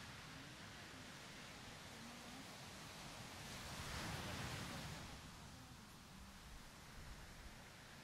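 Ocean surf picked up through a Shure MV88 microphone fitted with a windscreen: a faint, steady wash of broadband noise that swells briefly in the middle and then settles back, with no voices.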